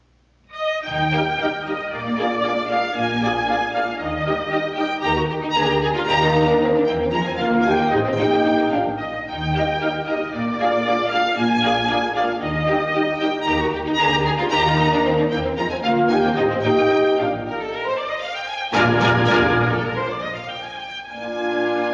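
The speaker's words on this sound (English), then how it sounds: "everyone does a popular contour dance called an Englische to a perky little tune that sounds like this" Beethoven's perky little dance tune, an Englische contredanse from the end of his ballet, plays continuously for about twenty seconds in a lively, bouncing rhythm with layered melodic notes and no voices.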